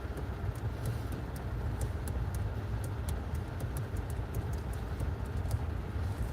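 Steady road traffic rumble around a car stuck in traffic, a continuous low, dense noise with faint intermittent clicks, no voices.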